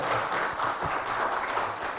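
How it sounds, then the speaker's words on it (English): Audience applause at a startup awards ceremony in Kolkata, a fairly quiet, steady wash of clapping from a seated crowd lasting the whole stretch. "Big round of applause for them"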